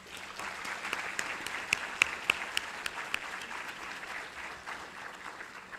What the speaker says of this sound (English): we must give them a very big round of applause